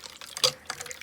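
Cold water poured into slime: a few close, small liquid splashes and drips with one brighter wet splat near the middle, quiet and without talk.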